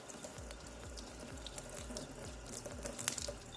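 Warm tap water runs steadily into a sink as makeup brushes are rinsed under it, a continuous close splashing hiss with no talking.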